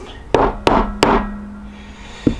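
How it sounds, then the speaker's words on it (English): A hammer taps engine seals into place: three sharp, evenly spaced knocks, then a lighter fourth tap after a pause, close and loud with a short ringing tone after each strike and no talking. "The hammer I'm about to use is way overkill"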